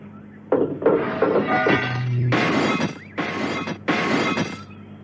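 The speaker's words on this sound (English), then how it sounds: "Steed cleared the windscreen of the rest of the glass and threw the steel ladder into the nearest ditch." Broken windscreen glass from a wrecked car is knocked out and cleared, a loud, close series of crunching shatters and scraping bursts in several separate bursts over a few seconds.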